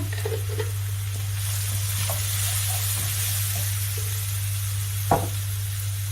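Ginger garlic paste sizzles steadily in hot oil while cockles masala fries, a constant hiss with a few soft stirring clicks and one sharp knock near the end.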